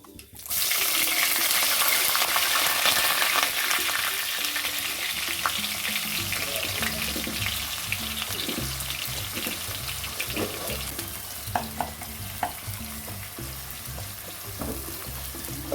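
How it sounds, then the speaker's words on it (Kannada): Onions frying in a pan with cumin and mustard seeds, a steady loud sizzle with scattered crackles and faint utensil clinks throughout, no talking. "ಹಾಗೆ ಚೆನ್ನಾಗಿ ಒಂದು ಗೋಲ್ಡನ್ ಕಲರ್ ಬರುವ ಹಾಗೆ ಈರುಳ್ಳಿಯನ್ನು ಫ್ರೈ ಮಾಡಬೇಕು."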